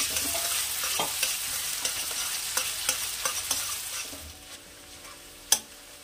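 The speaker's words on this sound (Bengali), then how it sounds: "পেঁয়াজ কুচিটা আমি একদম লাল করে বেরেস্তা করে ভেজে রাখবো।" Chopped onion frying in hot oil in a wok, a close steady sizzle with repeated spatula taps and stirring scrapes that quiet down before one sharp knock at the end.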